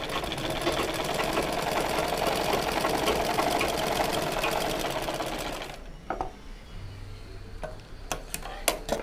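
A small home sewing machine runs and stitches in a fast, steady whir for several seconds, then stops, leaving a few faint clicks and knocks from the machine afterward.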